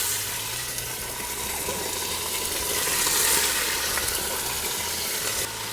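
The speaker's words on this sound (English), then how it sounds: "So I've already heated the pot up, put a little bit of oil in the bottom, and we're gonna go ahead and sear it off" Alligator meat searing in hot oil at the bottom of a pot, giving a steady, dense sizzle that runs throughout, close and fairly loud with no talk.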